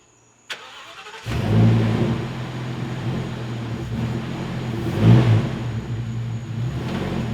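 The engine of a salvage Thor RV cranks with a brief click and catches, then settles into a steady, fairly loud idle with a low rumble and a swell of revving midway, and no talk over it.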